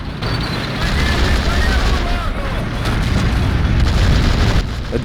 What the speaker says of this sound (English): That only took like 10 shots from the cannon.